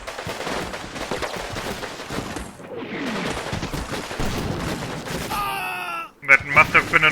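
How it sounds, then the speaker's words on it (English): American mortar fire in the Combat Mission: Rome to Victory war game, with a continuous rumble of battle, distant booms and gunfire bursts, ending in a sharp cluster of loud, close explosions. "That must have been an American mortar"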